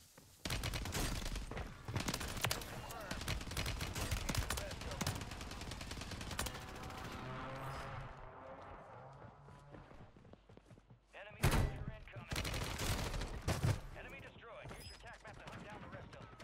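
Rapid automatic bursts from an MCW rifle fitted with a conversion kit in Call of Duty on Rebirth Island, loud and repeated in several volleys with thuds between them, while someone talks over the action.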